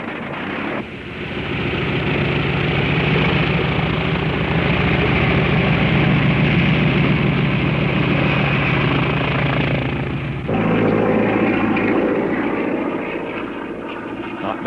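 A Navy carrier fighter plane's engine drones in flight during an air show demonstration, a loud, sustained roar whose pitch and texture shift partway through.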